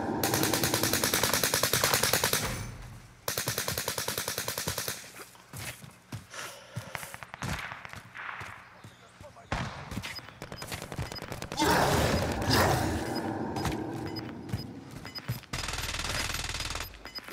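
Automatic gunfire in the video game Caldera, dense loud bursts of rifle shots firing in long volleys with brief pauses between, close and dominant throughout.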